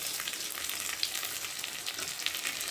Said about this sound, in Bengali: মশলাটা আলুর সাথে ভালো করে কষিয়ে নিই